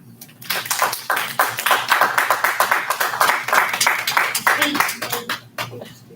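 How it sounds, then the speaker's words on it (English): A congregation applauds board members stepping down at the end of their term during a synagogue Shabbat service, with dense, steady clapping from many hands that swells quickly and carries on for several seconds before tapering off. "And you can applaud them."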